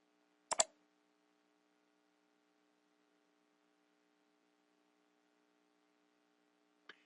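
A computer mouse click, heard as a single crisp click near the start and a fainter second click at the end, with near silence and a low electrical hum between them.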